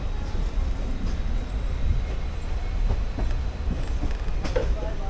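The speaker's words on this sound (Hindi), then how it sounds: "अब ट्रेन जो है अराइवल करते हुए प्लेटफॉर्म पे बठिंडा जंक्शन पे" A diesel train pulls into the platform at Bathinda Junction, with a steady low rumble of rolling stock and clattering wheels that stays loud and close throughout. Faint voices can be heard underneath.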